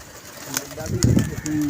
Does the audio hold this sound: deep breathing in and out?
no